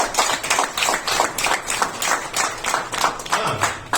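An audience claps during a Hindi-language seminar talk, with a continuous patter of many hands that swells and eases in rhythmic waves for several seconds, fairly close and with no talk over it.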